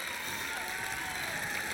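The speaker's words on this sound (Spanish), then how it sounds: "Un fuerte aplauso para nuestra Gladys Hill." Studio audience at a televised beauty pageant applauding and cheering, a bright, dense wash of clapping and shouts that stays steady and loud for the whole moment, with no speech over it.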